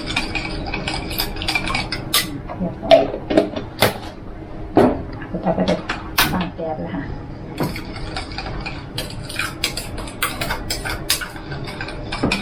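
Metal spatula scraping and clinking in a pan while yellow bamboo shoots are stir-fried with minced pork and holy basil, in irregular close taps and scrapes with a voice talking over them.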